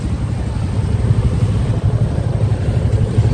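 Motorbikes arriving at the Belari picnic spot by the Hooghly river, heard as a loud, steady low engine rumble close by with no talk.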